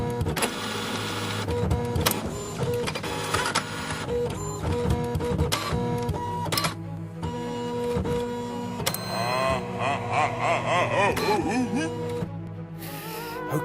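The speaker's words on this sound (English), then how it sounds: "Okay, the haunted printer's after you." Haunted printer in a puzzle game, a mechanical whirring and feeding printer sound mixed under a busy music bed with rising swoops, running steadily and fairly loud throughout.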